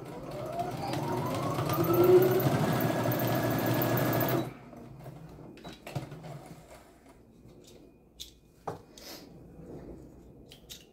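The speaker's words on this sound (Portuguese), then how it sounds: "Eu tô costurando aqui com meio pezinho de máquina" A sewing machine stitches through fabric with a narrow half presser foot, running in a steady whirring burst of about four seconds before stopping. Light handling clicks and rustles follow.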